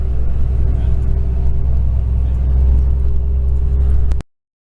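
A bus engine climbs a winding mountain road toward a coastal town, a loud, low, steady drone with a faint hum above it, until it cuts off abruptly near the end.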